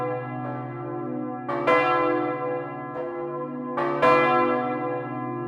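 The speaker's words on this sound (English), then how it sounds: "We are at the old carillon now, at the level where the swinging bells are." Large swinging bells of St. Rumbold's Cathedral ring in a slow, overlapping pattern, heavy clangs recurring roughly every second with a long humming resonance, close and loud at bell level.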